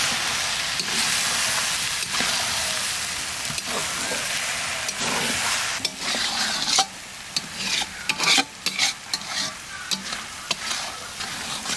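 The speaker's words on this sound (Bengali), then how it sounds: "আদা রসুন লঙ্কা বাটা দিয়ে একটু কষি নিলাম।" Ginger, garlic and chilli paste fries in a wok, with a steady sizzle under repeated scraping spatula strokes that become choppier and more clustered toward the end.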